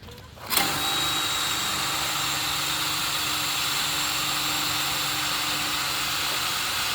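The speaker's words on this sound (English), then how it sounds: "we'll drill a small pilot hole for the bolt into the post right there" A power drill bores a small pilot hole for a bolt into a mahogany post, starting abruptly and then whirring steadily at close range without a break.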